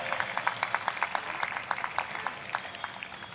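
Audience applause at a centenary celebration event in Jabalpur, a brisk run of many hands clapping at moderate distance, steady and fairly dense, slowly thinning toward the end.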